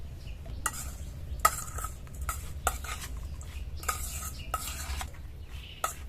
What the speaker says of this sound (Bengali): সবকিছু উপকরণ দিয়ে এবার মিশিয়ে নেব।